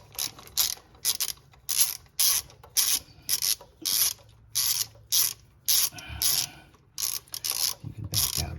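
A ratchet wrench loosens the nuts on a 465 cfm Holley carburetor in a run of loud, close, rhythmic bursts of clicking separated by short pauses.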